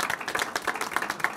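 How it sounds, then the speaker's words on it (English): Brief burst of applause at a city council meeting, a small group clapping unevenly at close range with sharp separate claps. "So let's give a round of applause for that."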